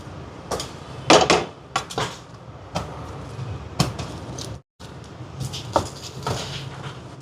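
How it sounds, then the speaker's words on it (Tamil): Fried sardines are stirred into a spicy Sri Lankan fish pickle in a pan, giving irregular scrapes, knocks and clatters of a spoon against metal, close by, with brief pauses between strokes. "மீன் எல்லாத்தையும் சேர்த்துட்டு கலந்து விடுவோம்"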